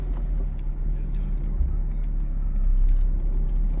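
A 2002 Mercedes-Benz S55 AMG on the move, heard from inside as a steady low engine hum and road rumble that swells slightly toward the end.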